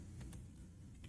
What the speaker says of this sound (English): Sorry about the typing.